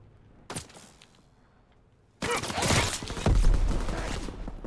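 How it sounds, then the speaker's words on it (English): Gunfire in a video game shootout: one short crack, then after a pause a loud sustained barrage of overlapping shots and heavy booms that keeps rolling to the end. "Who is shooting at me?"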